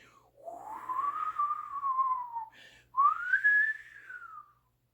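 A voice imitates blowing wind with two long, wavering whistled whooshes that rise and fall, separated by a brief pause.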